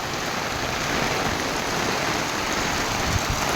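Heavy monsoon rain pours in Mahabaleshwar in a dense, unbroken roar, loud and close throughout with no voices.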